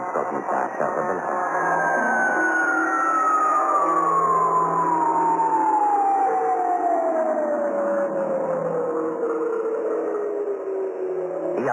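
An air-raid alarm siren in a radio drama wails, sweeping slowly downward in pitch over several seconds, loud and sustained against a steady background rumble.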